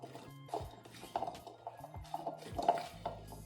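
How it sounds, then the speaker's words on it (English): Seasoned potatoes being tossed by hand in a bowl, with soft clinks and knocks of the bowl and a few sharp clatters spread over a few seconds, close and fairly quiet. "what I'm gonna do now is mix it all together"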